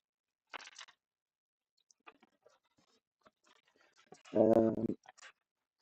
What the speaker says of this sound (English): We have some keys, 2 sets, metal, very strong, sturdy, not easy to snap.